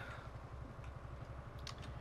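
Truck engine idling and running in Euro Truck Simulator 2 after an engine swap, a steady low pulsing drone at moderate level with faint clicks and game sounds over it, no talking.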